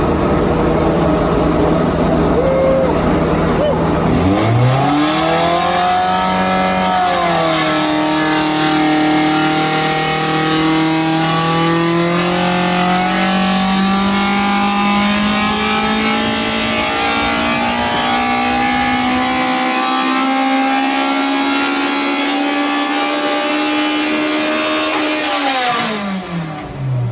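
A tuned AE86 Corolla engine built for 10,000 RPM and 300 HP revs on a dyno. It climbs to a loud, screaming high pitch, holds at sustained high revs for a long stretch, then drops off. No talking.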